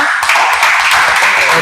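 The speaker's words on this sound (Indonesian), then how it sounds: "Kita beri tepuk tangan yang meriah untuk kita semua." A school class applauding at the end of a lesson, dense continuous hand clapping from many people at close range for the whole stretch.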